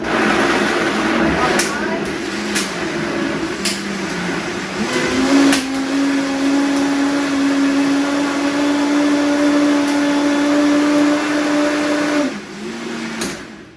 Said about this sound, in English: All right, so now I'm gonna blend this.